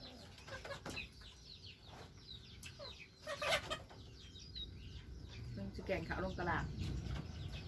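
Chickens cluck intermittently at close range with some rustling and wing flaps, while people talk over them.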